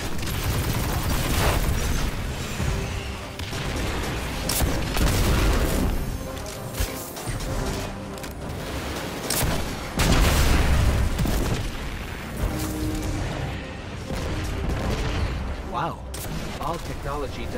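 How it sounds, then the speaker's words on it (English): Explosions and gunfire boom through a Destiny 2 mission, with heavy blasts and rapid shots in repeated loud bursts over a continuous layer of game music and effects. "Did something explode? Was it an explosion?"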